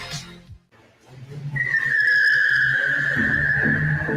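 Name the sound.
car tires skidding under hard braking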